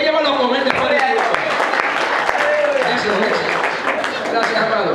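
A crowd applauds steadily at an anniversary church gathering, with dense continuous clapping throughout and voices mixed into the noise.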